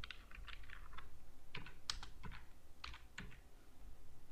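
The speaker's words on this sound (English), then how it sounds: "Type here your PIN" Keys tapped on a computer keyboard while entering a PIN, a close, quiet run of irregular clicks with brief pauses between clusters of keystrokes.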